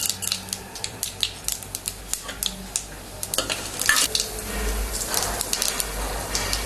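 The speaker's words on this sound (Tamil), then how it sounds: "நம்ம முந்திரியும் போட்டு லைட்டாக ஃப்ரை ஃப்ரை பண்ணிக்கலாம்" Cashews and lentils fry in hot oil in a pan, a close crackling sizzle with rapid spatters and scraping stirs, loud and alone.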